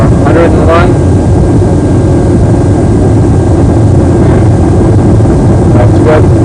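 Airliner jet engines spooling up to maximum takeoff power, a loud steady low roar filling the whole stretch, with cockpit crew voices briefly heard over it.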